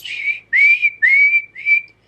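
A voice imitates a shrill eagle-bone whistle with four high, piercing whistled notes, each sliding slightly upward and held briefly, close and loud with short gaps between them.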